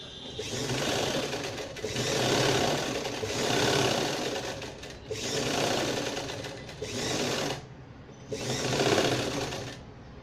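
A sewing machine top-stitches a party-wear gown in four or five sustained runs of rapid stitching separated by brief pauses, close and steady.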